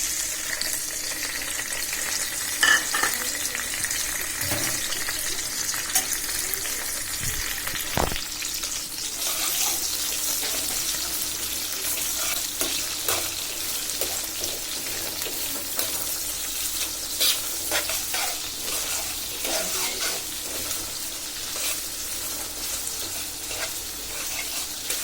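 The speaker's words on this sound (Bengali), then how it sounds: "এদিকে আমি কচুরলতি তেলে দেওয়ার জন্য কড়াইতে তেল দিয়ে দিছি, আর এখন কেটে রাখা পেঁয়াজ রসুন কাঁচামরিচ দিয়ে দিচ্ছি।" Onion, garlic and green chili frying in oil in a wok, a continuous bright sizzle with scattered stirring scrapes and a few sharp clinks, no one talking.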